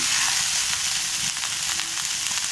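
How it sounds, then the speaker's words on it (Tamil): Onions and tomatoes sizzle steadily in a pan, sautéed as the base for a mutton gravy; a continuous, close, fairly loud frying hiss with faint stirring clicks and no voices. "நான் ஒரு 4 பெரிய வெங்காயம் போட்டிருக்கேன் வதக்கிறதுக்கு."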